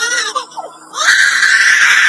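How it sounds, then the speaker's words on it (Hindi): A lyrebird gives a call resembling a crying baby: short, wavering wails, a brief quiet gap, then a louder, sustained shrill cry, close and prominent with no talking. "सबसे पहले लायर बर्ड। भाई इसकी आवाज सुनकर आपको ऐसा लगेगा जैसे कोई छोटा बच्चा रो रहा हो।"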